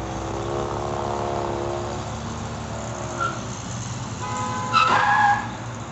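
At an intersection a car engine drones, then tires screech and squeal in a sharp skid near the end. No clear impact stands out, and no voices are heard.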